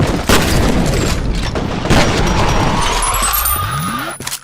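Enemy gunfire in the video game F.E.A.R., dense rattling bursts and booming impacts filling several seconds loudly, with bullets whizzing past before fading out.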